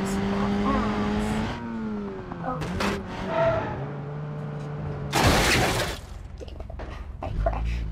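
In the BeamNG driving game a vehicle's engine revs and whines through gear changes, tires skid, then a sharp crunching crash with shattering debris hits, followed by lighter rattling; a voice talks at points.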